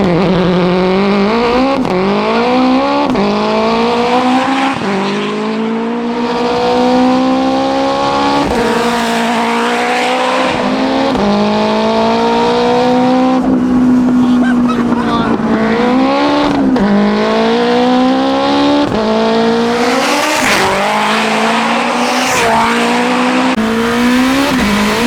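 An 800HP four-wheel-drive Honda Integra Type R with a sequential gearbox, driven hard from inside the cabin: a loud engine repeatedly winds up through gears with sharp upshift breaks, deep rising drone and bursts of revving, while occupants talk over it.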